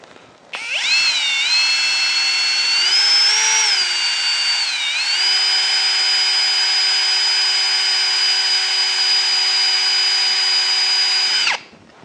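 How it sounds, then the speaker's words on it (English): A power drill spins an old lathe centering bit in its chuck, running with a steady high whine for about eleven seconds, its pitch rising and dipping slightly early on before holding level, then stopping abruptly. "got it chucked in the drill."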